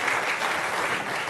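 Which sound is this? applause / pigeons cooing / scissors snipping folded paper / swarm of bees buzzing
applause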